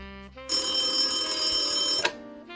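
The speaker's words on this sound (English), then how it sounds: "Sunny, the phone's ringing." A telephone bell rings loudly in one sustained burst, starting abruptly and cutting off after about a second and a half, with faint tones around it.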